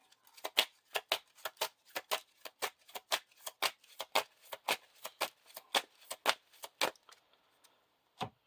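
Playing cards shuffled into a deck during a Lord of the Rings card game, a rapid run of crisp riffling bursts, close and fairly soft, repeating in quick rhythm for several seconds with no talk.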